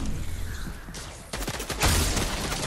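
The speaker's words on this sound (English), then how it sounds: "He's shooting" Fortnite gunfire, with scattered shots amid game noise, then a louder burst of rapid fire from fairly close range toward the end.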